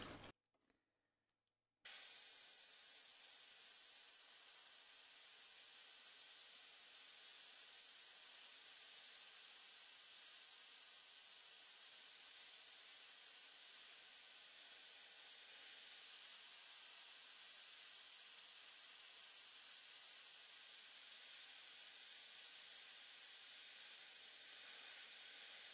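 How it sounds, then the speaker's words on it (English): After a brief quiet moment, a steady, faint hiss of an airbrush spraying transparent red paint onto a fishing lure runs continuously without pause for the rest of the time. "I'm gonna spray very lightly a little bit of transparent red, just randomly"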